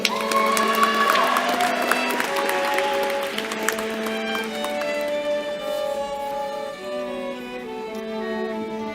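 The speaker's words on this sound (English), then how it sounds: "One more round of applause for all of our graduates." A large audience applauds and cheers for graduates at a 2025 commencement hooding ceremony, a steady wash of clapping that slowly thins out over sustained musical tones.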